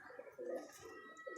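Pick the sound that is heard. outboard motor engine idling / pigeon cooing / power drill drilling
pigeon cooing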